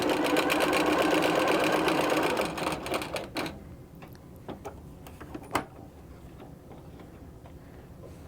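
A home sewing machine stitches a seam on a scrappy quilt block, running steadily and loud for a couple of seconds, then slowing into a few scattered clicks and taps before falling quiet.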